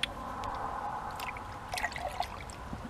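Half a litre of nematode solution for treating vine weevil in soil is poured, a soft trickling, dribbling liquid sound, fairly faint and steady, with a few brighter splashy bursts toward the end.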